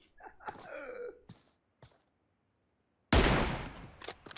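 Gunfire in a shooter video game, heard as a couple of short shot bursts early on, then a loud sustained blast of fire near the end after a brief silence.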